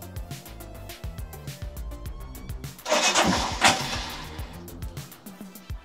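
A Royal Enfield Himalayan motorcycle engine cranks and struggles to catch, a loud mid-range churning burst in the middle after steady mechanical clatter, with no clear firing into an idle.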